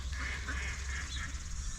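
Ducks being fed outdoors in New Zealand on a hot, sunny day give steady, overlapping quacks close by, a continuous chorus with no talking.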